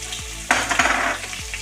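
Sliced onions fry in a pan for chicken iguru until brown, a close, bright sizzle broken by a few sharp stirring bursts and scrapes, with no voices.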